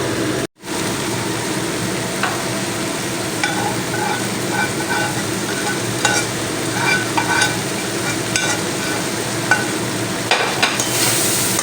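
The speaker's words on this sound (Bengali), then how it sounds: "দিয়ে একই সঙ্গে নাড়াচাড়া করে নেব সব জায়গায় মিশে যাবে" Chicken and ginger fry in oil for momo filling with a loud, continuous sizzle, close by, while a utensil stirs and scrapes the pan in occasional soft knocks.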